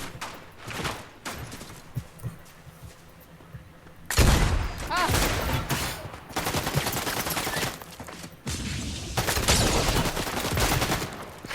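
Rapid bursts of Fortnite gunfire crackle on and off, growing dense and loud in the second half, with voices talking over the shooting.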